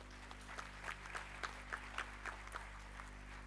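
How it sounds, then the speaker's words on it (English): An audience claps for a gold medal recipient at a university convocation ceremony. The applause is faint, distant and steady, with a soft bed of hall hum beneath it. "Claps, please."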